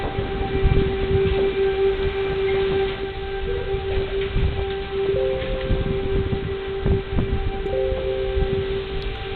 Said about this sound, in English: That is a siren.